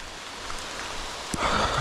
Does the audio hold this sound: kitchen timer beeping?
no